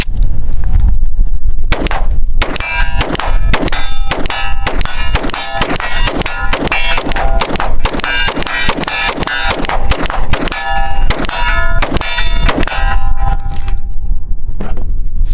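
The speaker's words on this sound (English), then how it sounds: "Okay, I'll put one more mag through it." A magazine is fired through a gun fitted with an internal compensator, a loud close run of sharp, ringing shots in quick irregular succession, some clustered together, with metallic clangs between.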